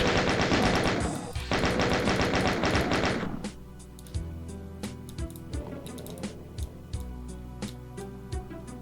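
Rapid automatic gunfire from the Doom mod Sigil, dense bursts for about three seconds, then scattered single shots and impacts over game noise, loud and close.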